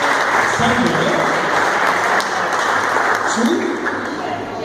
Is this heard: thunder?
no